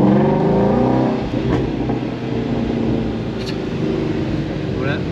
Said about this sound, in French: Je crois que c'est une des plus belles sonorités là aujourd'hui des voitures américaines.